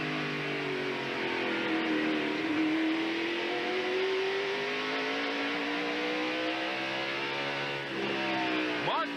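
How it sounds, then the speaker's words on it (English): Onboard a NASCAR race car on a half-mile racetrack, the engine roars loud and close, holding a steady high drone that shifts pitch slightly as the car works through the lap, with a brief dip near the end. "Here is Mark Martin as we ride with him with a half a lap to go."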